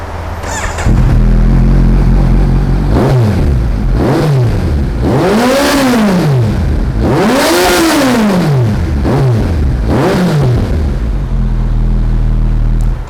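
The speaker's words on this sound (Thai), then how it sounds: "เดี๋ยวลองฟังเสียงเครื่องยนต์กันดูดีกว่านะครับ" A 2019 Kawasaki Z900 motorcycle engine idles loudly up close, then is revved hard several times, each rev rising and falling in pitch before settling back to idle.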